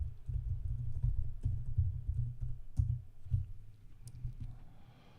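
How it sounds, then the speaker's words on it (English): Typing on a computer keyboard, close and fairly soft, with clusters of quick clicking keystrokes broken by short pauses and a few sharper single taps, no talking. "I'm getting used to this keyboard."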